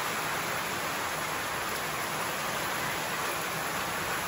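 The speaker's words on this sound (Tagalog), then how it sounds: "Bigla pong baksak yung ulan" Heavy rain pours down in a constant, dense hiss with no breaks, loud and close.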